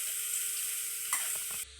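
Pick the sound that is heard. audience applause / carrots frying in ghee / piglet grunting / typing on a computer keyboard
carrots frying in ghee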